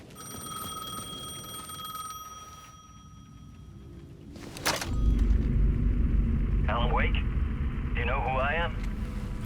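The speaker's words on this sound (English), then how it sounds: "The payphone was ringing again." A payphone rings in the video game Alan Wake 2, heard as clear warbling electronic bursts, two distinct rings in the second half over a loud, rumbling ambient background with steady tones earlier.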